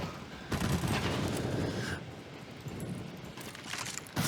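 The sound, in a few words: LMG machine gun firing in a video game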